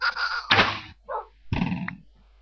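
Bow shots and hits on a mob in Minecraft: three short bursts of thunking twangs and impacts separated by brief silences, close and fairly loud.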